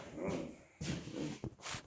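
A certified PTSD assistance dog makes soft whimpering and yipping sounds at close range, in short irregular bursts.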